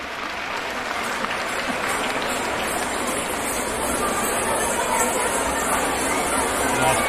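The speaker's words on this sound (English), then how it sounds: "give a big round of applause to our dancers." An audience at a school annual day celebration applauds dancers, a loud, continuous wash of clapping from a big crowd with some cheering and chatter mixed in.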